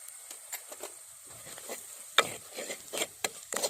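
Chili powder and coriander powder stirred in a pan, heard as quiet, intermittent scrapes and light taps at an uneven pace over a faint background sizzle.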